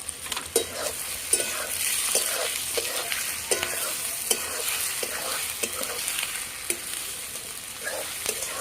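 Onions and masala-marinated chicken frying in a pan, a steady sizzle under repeated scrapes and taps of a stirring spoon, close up, with no talking.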